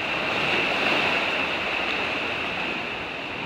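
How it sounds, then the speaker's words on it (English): Ocean tidal surge on the Oregon coast at Coos Head, waves washing in and draining back out in a continuous loud, close roar of surf with no voices. "Let's see if we can get this tidal surge on film here."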